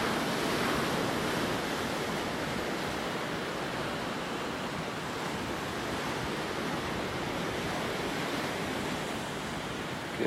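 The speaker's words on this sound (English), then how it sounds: "waves that are going on this morning. It's pretty amazing out here." Ocean surf washing onto the shore on a morning beach, a steady full broadband wash with no breaks or quiet gaps, loud and continuous with no voices.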